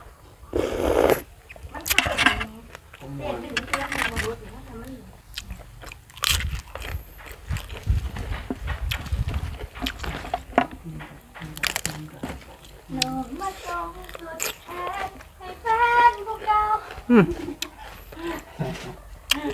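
Crunchy biting and chewing of fried shrimp, close and intermittent, with someone talking and singing loosely over the eating sounds.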